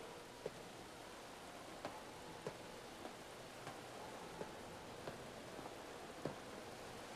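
Steady heavy rain pours down on a racetrack, a dense continuous hiss with occasional sharper drop impacts scattered through it, no voices.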